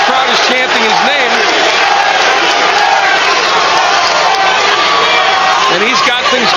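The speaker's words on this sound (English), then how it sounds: "the crowd is chanting his name" Boxing arena crowd chanting for Larry Holmes during the 10th round of his 2002 fight against Eric "Butterbean" Esch, a loud continuous roar of voices with a commentator talking over it.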